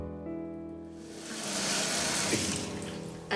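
Warm water runs steadily from a kitchen tap into a measuring cup, a continuous close splashing rush that swells and brightens as the cup fills, with no voices.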